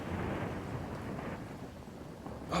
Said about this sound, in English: Oh wow, where'd that thunder come from?